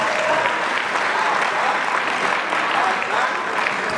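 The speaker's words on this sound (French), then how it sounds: "Est-ce qu'on peut applaudir, s'il vous plaît?" Steady audience applause at an evening party in Brazzaville, a dense, continuous wash of many hands clapping throughout, with faint crowd noise beneath.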